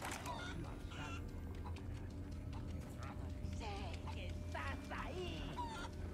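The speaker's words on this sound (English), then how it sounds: "I'm afraid of the chickens." Chickens cluck and squawk in the Resident Evil 4 game, several short bursts scattered over a busy background of footsteps and game ambience, with a person talking softly at times.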